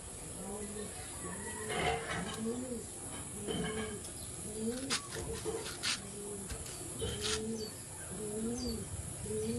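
Several pigeons, including a black racing pigeon with a double ring band, coo in repeated low rolling phrases close by, with someone talking over them through most of the stretch.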